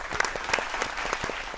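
Applause at a Hindi poetry gathering welcoming a woman poet to the stage, close, fairly sparse individual claps in a quick irregular patter over a short stretch.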